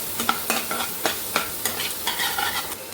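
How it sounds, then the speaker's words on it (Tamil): Onions frying in butter for butter chicken give a steady close sizzle, broken by a regular series of scraping stirs and sharp utensil taps against the pan. "இப்போ இந்த பட்டரில் வெங்காயம் போட்டு நல்லா ஃப்ரை பண்ணிக்கலாம்."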